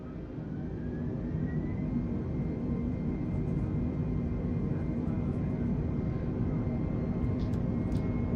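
Airbus A320neo engines on an Air Canada airliner spooling up for takeoff, a loud, steady broadband roar with a low rumble and a faint rising whine that holds throughout.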